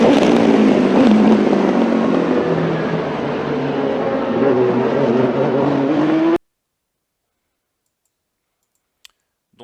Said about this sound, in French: Regardons un extrait de la course des 24 heures du Mans durant la nuit